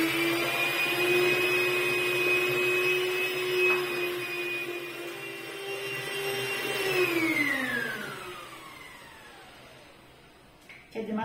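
An electric hand mixer whirs steadily as it beats butter with sugar and egg yolks for a nut babka, its pitch holding level and then sliding down as it slows near the end, with a faint voice underneath.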